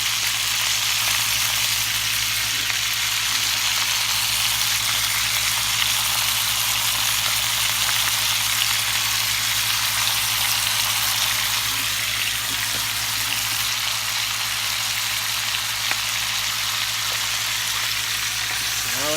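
Onions frying in a pan for beef short ribs, a loud, continuous close-up sizzle with a steady hiss and a low background hum, nearly unchanging throughout.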